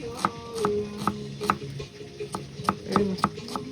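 Sharp knife chops through onions on a board for a Filipino salad, a quick irregular series of close, crisp thuds with no talking.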